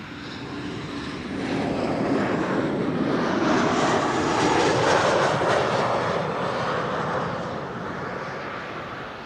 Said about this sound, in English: KLM flight 1030 arriving from Perthchester. Embraer 190 and another Embraer 190 behind it.